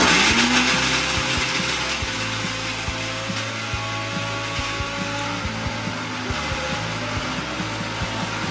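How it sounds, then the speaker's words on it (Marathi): Mixer grinder blending a paste of coriander, coconut, ginger, chilli and garlic, a steady close whirring grind with a low rumbling hum throughout, running alone without talk. "तर आता आपण मिक्सरला हे वाटण करून घेऊया"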